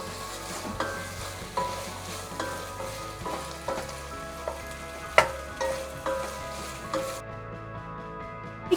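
Thinly sliced potatoes sauté in oil with a steady sizzle, while a spoon scrapes and stirs at irregular intervals and occasional sharper clinks stand out.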